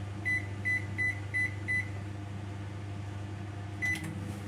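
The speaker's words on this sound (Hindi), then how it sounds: "हम सेम कन्वेक्शन मोड पे इसको 180 डिग्री पे 15 मिनट के लिए बेक होने के लिए सेट करेंगे" A microwave oven being set to convection bake mode for a 180-degree, 15-minute bake gives a series of five short, evenly spaced button beeps, then one more beep after a pause, over a steady low hum.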